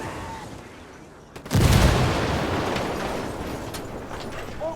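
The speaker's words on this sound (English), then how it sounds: "¡Algo acaba de estallar ahí!" A loud in-game explosion in the tactical shooter Ghost Recon Wildlands booms in suddenly after a quieter stretch, then leaves a long rumbling, crackling tail that slowly fades.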